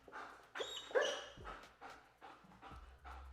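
A dog whimpers and yips in short, high-pitched bursts, close by, with brief pauses between the whines.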